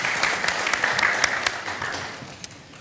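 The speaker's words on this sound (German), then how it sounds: "das ist doch ein Beifall wert" An audience in a theatre barn in Cottbus applauds at a talk event, producing a dense, steady wash of clapping that fades gradually over a few seconds.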